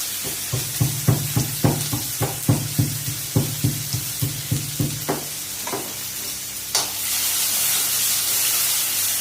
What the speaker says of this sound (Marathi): दोन मिनटं कांदा पहिला भाजून कांदा भाजायला